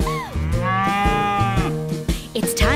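A cartoon cow moos with a long, drawn-out call over a bouncy nursery-rhyme tune, with steady music and rhythmic beats throughout.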